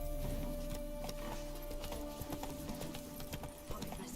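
The horse Roach gallops in The Witcher 3, with a rapid rhythmic clip-clop of hooves over a steady game soundscape and a continuous low tone, fairly faint and without talk.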